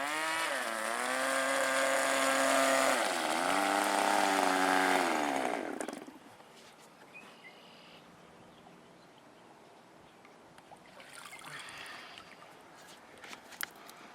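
An RC boat motor with a NeverWet-coated hull runs with a loud, high-pitched whine that rises and shifts in pitch for about six seconds, then cuts off, leaving quiet outdoor background noise.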